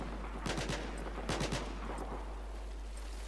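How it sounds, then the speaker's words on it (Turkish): Gunfire in Battlefield 4: two short clusters of rapid shots, a few bursts each, sounding at mid distance over a steady background hum, with no talking. "Herhalde bizim adam boş boş havaya falan sıkıyor"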